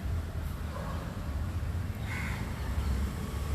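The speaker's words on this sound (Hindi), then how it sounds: "और पक्षियों की आवाज़" Crows caw repeatedly outdoors over a dense, steady wash of ambient noise, with a few harsh calls standing out around the middle.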